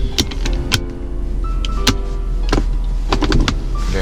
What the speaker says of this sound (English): You have power windows for both sides. They both work.